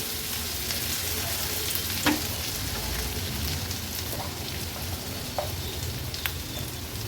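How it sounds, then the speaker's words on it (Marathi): Ginger garlic paste sautéing with onion and chilli in hot oil for a spicy egg fry masala, a steady close sizzle with occasional soft stirring clicks, no talking. "चमचाभर मी आलं लसूण क्रश घेते, तो पण ॲड करते। थोडासा तो परतून घ्यायचा आहे"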